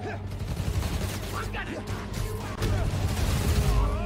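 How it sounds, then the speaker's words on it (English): Rapid bursts of gunfire ring out in the Spider-Man: Miles Morales video game, loud and continuous, with a speaking voice over the shooting. "Wait, who's shooting now?"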